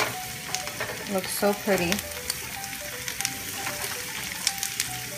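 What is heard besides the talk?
tart cherries sizzling as added to black rice in pan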